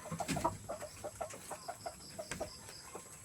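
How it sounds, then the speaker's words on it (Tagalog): A large chicken clucks repeatedly at a farm, a series of short, fairly close clucks in an uneven rhythm with no talking. "Malaking manok."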